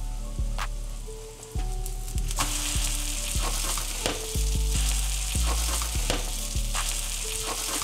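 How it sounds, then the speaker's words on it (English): A potato omelet fries in about a tablespoon of avocado oil in a pan over medium-high heat, giving a continuous close sizzle with occasional knocks and clinks, plus a low tonal hum underneath. "Now we're gonna fry this in some avocado oil."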